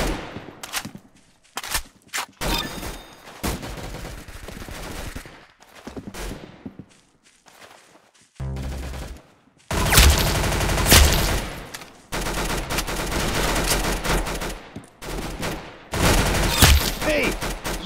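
Gunshots in a Roblox game, scattered sharp shots and quick bursts of gunfire with pauses between them, rising to dense rapid firing in the second half, with voices talking over parts of it.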